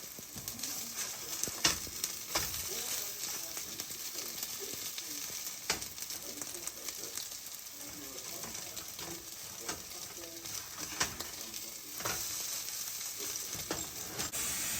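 Food sizzling steadily in a hot pan after being flipped, a constant crackling hiss with occasional sharper pops and faint kitchen sounds, no talking.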